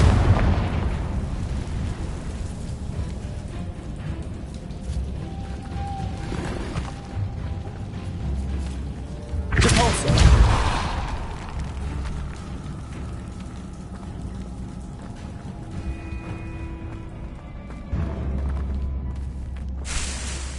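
Spell explosions burst out in the Hogwarts video game on PS4, one loud blast with a rumbling tail about halfway through, over a constant roar of rain-like ambience and scattered game effects.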